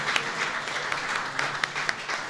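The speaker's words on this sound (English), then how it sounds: "How about a round of applause for these great guardians up here?" Audience applause during a Vice President's speech to veterans for Military Appreciation Month, a steady wash of many hands clapping with a few sharper claps standing out, moderately loud and with no talking over it.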